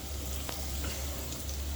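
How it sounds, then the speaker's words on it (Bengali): Whole spices (cinnamon, cardamom, black peppercorns and cloves) fry in a pan for beef curry, giving a steady close sizzle with a few faint clicks as they are stirred. No voices. "তারপর একটু ভালো করে নেড়ে দিব।"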